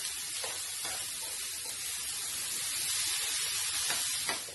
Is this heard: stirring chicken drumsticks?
yes